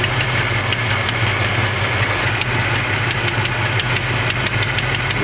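A 1970 Chevrolet C20 truck engine idles rich in close range, a steady loud chugging hum with a regular light ticking pulse and no pauses.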